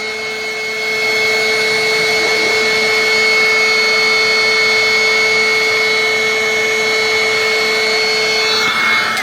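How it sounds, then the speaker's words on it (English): A heat gun blows steadily over resin poured for coasters, a continuous loud whirring hiss with a high electric whine that holds evenly from start to finish. "And then I use my gun to heat it up."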